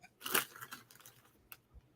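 Expired Ruffles Double Crunch potato chips are bitten and chewed close to the mic, starting with one sharp crunch and followed by softer, scattered crunching at low volume.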